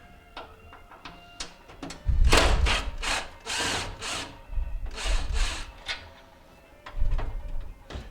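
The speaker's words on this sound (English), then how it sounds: "I'm going to remove these two screws here" Screws being removed from the door handle of a Whirlpool stove, a close power driver whirring in several short bursts with small clicks and handling noises in between.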